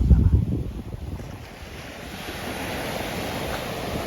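Ocean surf and gusting wind at the sea at Ponte Vedra, with broadband wash rolling steadily and wind buffeting the microphone, louder at the start and then a continuous roar.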